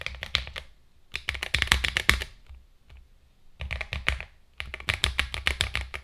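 Typing on a mechanical keyboard with Radiant Red switches and no Poron pads, heard as quick bursts of crisp, poppy keystrokes separated by short pauses, close and fairly quiet with no talk.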